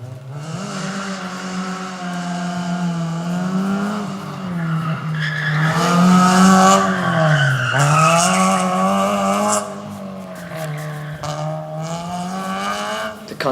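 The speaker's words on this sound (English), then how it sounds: "cars going so fast that they make such a noise when they skid round the corners" Street-racing cars in a car park rev their engines, the pitch climbing and dipping in long swells while tyres skid. The sound is loud and fairly close, continuous for over ten seconds, with no talk.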